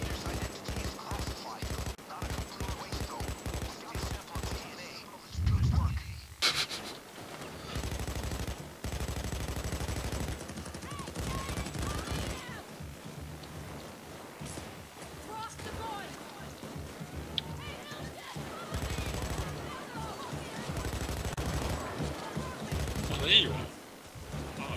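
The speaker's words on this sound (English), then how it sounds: "All I saw was just bullets firing, hip firing for days." A light machine gun hip-fires in the PayDay video game: rapid, evenly spaced shots rattle through the first five seconds, then give way to a duller, busier game soundscape with scattered bangs.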